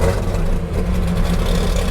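A supercharged 1964 Pontiac GTO muscle car idles with a deep, loud, steady rumble, its low engine note droning close and unbroken.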